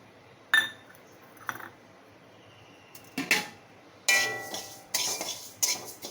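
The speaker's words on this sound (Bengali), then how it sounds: "মুগ ডালটা এখন আমি শুকনো খোলায় ভেজে নেব" Dry mung dal tossed in a hot empty pan (kadai), giving several separate clinks and scrapes of utensil on metal, then denser rattling bursts toward the end, close and alone with no talk.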